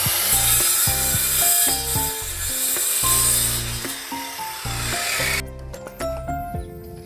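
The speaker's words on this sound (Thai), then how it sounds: "ตัดไม้เพื่อจะมาประกอบนะครับ" Wood being hand-sawn into pieces for assembling a traditional shelf table, with a steady rasping cut under loud, prominent background music.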